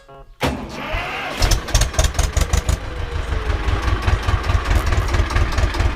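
A Ursus 330 tractor engine cranks briefly, catches with a burst of uneven firing, then settles into a loud, close, throbbing idle with a steady chugging rhythm.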